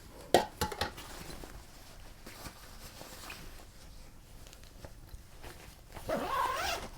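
A zipper closes on a changing bag used to load black-and-white film into a Paterson tank, with a few sharp clicks and handling rustle before a short rasping zip near the end.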